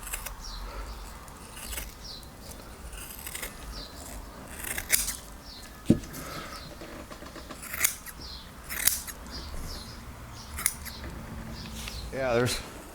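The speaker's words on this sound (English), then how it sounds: "See, them scissors will cut it." Scissors snip through MGA seat upholstery material in a series of sharp, close cuts spread across a quiet workshop background.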